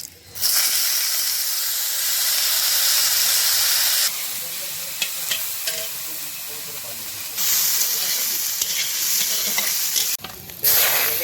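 Cooking oil sizzles loudly in a pan with curry leaves, cumin seeds and spice paste for a rui fish belly dish, a steady frying hiss with stirring scrapes, briefly dipping around the middle and near the end.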